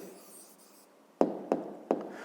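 A pen works out the answer to a fifth-grade maths exercise, soft scratching followed by three distinct taps on paper, close and quiet with no voices.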